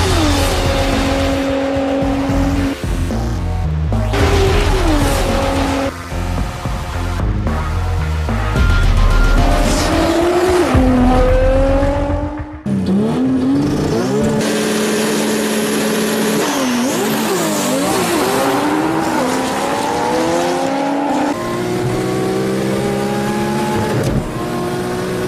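A Nissan Skyline GT-R accelerates hard, its engine roaring loud and close through repeated rising revs and gear changes over about 25 seconds, with no talking.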